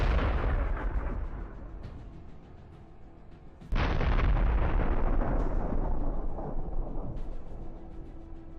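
Heavy blast from an FPV kamikaze drone strike on a tank with a 125mm gun, a rumbling roar that fades, then a second sharp explosion followed by a long loud burning rush of detonating ammunition.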